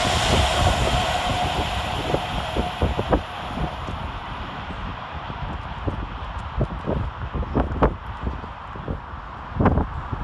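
An Avanti West Coast Class 390 train passes through Milton Keynes Central railway station, a sustained rumbling roar with rhythmic clacks and thumps from wheels over rail joints, loud and close, with no talk.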